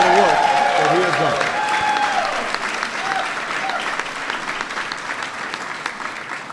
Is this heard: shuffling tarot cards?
no